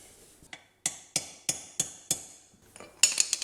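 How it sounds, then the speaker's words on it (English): A run of sharp metallic hammer blows on a rusted part of a Polaris Sportsman 600 ATV, about seven at an even pace, then a quick cluster of clanging strikes; close and fairly loud. "Grab that hammer again."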